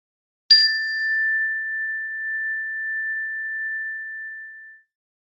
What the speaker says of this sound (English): I'm going to play the chime